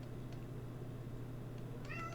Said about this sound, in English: Can you hear Captain meowing out there?